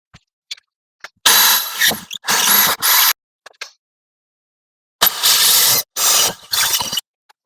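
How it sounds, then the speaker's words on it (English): Power drill bursts boring holes up through a ceiling, four loud whirring runs of roughly a second each in two pairs, separated by silence and faint clicks, close by with no talking. "now that we have our holes drilled up through the ceiling"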